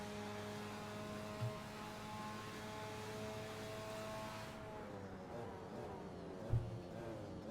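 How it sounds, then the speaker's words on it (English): Onboard engine of a GT300 race car at Fuji, a sustained high-pitched engine tone holding steady, then dropping off under braking with a couple of sharp thumps, moderately quiet throughout. "On board, though, with one of our GT300 cars, and it's absolutely fantastic to listen to."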